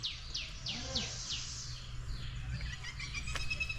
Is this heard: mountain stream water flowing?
no